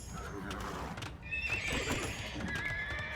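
Horses neigh and whinny in the strategy video game Age of Empires II, with clip-clopping hooves and game ambience. There is no talk over them.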